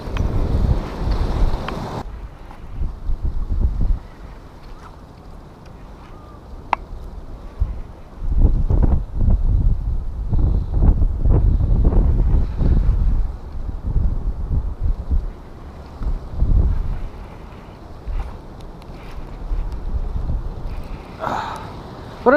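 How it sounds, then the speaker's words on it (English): Strong cold wind roars and buffets the microphone over choppy lake water, gusting unevenly in loud surges throughout. "Wind is really picking up. It's getting super choppy. That wind is cold"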